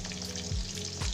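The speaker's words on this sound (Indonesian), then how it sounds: "tahunya juga saya goreng terlebih dahulu" Tofu frying in hot oil, a steady close sizzle and crackle with a couple of low stirring scrapes, alone without voices.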